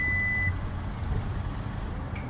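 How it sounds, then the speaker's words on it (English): High electronic beeps ring out near a Hyundai Kona rental car, one at the start and another near the end, over a low, steady background rumble. "What is that beeping noise?"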